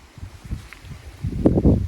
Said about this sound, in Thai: แล้วลมตีตลอดทั้งวัน